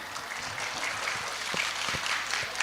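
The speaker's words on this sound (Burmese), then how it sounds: "Please give a big round of applause to the teachers!" Applause for the teachers at a school year-end award ceremony: a steady wash of many hands clapping over 2.7 seconds, moderately loud and continuous, with no speech over it.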